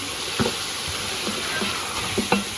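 Yogurt and two medium tomatoes are stirred together in a hot pan for chicken tehri, a constant sizzle with a few soft scraping stirs breaking through.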